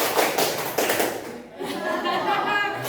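A classroom of students at a vocational school claps hands together in a counted pattern, a few sharp group claps ringing out near and loud amid room noise, with a voice speaking briefly.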